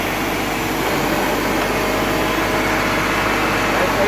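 A crane engine runs loud and unbroken while its boom is raised during repair work, giving a dense, steady mechanical drone that fills the whole stretch.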